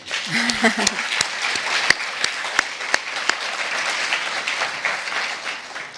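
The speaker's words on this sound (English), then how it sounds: "So why don't you applaud him?" An audience at a high-level international adaptation event applauds, a moderate bed of clapping punctuated by distinct loud individual claps near the microphone, a brief voice sounding at the start.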